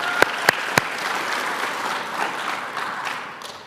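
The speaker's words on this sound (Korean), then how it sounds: "하나님께 영광의 박수 올려드리겠습니다" Church congregation applauding in praise of God at an ordination thanksgiving service, a steady wash of clapping opened by a few sharp, loud claps, then gradually thinning toward the end.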